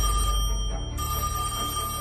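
A cartoon telephone rings late at night, a steady electronic ringing tone that holds through the whole moment without any voices.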